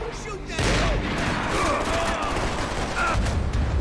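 Gunfire in the video game Max Payne 3: continuous loud automatic fire and explosive rumble filling the scene, with game voices shouting over the shooting.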